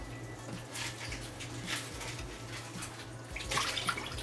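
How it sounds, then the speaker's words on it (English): Fresh water runs and splashes over raw chicken leg quarters being rinsed for fried chicken, a steady trickle with louder sloshing surges near the end, close by and without talk. "and then we're gonna rinse with fresh water"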